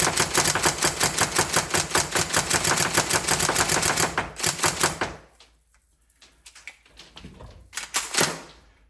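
A Tokyo Marui MP5A4 NGRS airsoft electric gun fires a long rapid burst of sharp, evenly spaced mechanical cracks lasting about five seconds, then falls quiet before a short second burst near the end.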